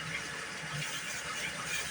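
Water runs steadily from a kitchen tap in a home kitchen, a continuous soft hiss and splash at moderate distance with no talk over it.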